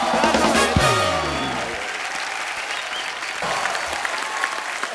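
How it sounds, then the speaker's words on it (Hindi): A Bollywood talk-show studio audience bursts into enthusiastic applause that carries on steadily, with a brief musical sting and a voice calling out at the start. "एक बार जोरदार तालियां"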